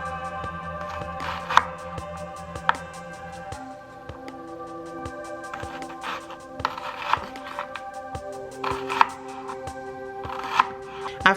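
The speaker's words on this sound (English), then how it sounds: "While our chili pods are boiling, we're going to slice our onion." Knife slicing an onion on a cutting board for a Colorado burrito chili con carne, a string of sharp, moderately loud chops and taps in an uneven rhythm, with faint background hum and no talking.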